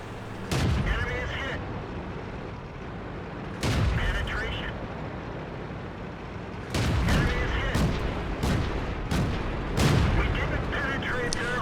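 Tank cannon fire in World of Tanks on the Airfield map, several heavy booming shots at irregular intervals, each a sharp blast with a rumbling tail, over steady engine and battle noise while someone talks throughout.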